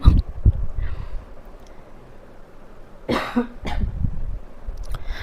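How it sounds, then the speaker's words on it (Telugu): Several sharp coughs in short bursts, one cluster at the start and a pair a few seconds later, close to the microphone against faint background noise. "దగ్గు వస్తుంది."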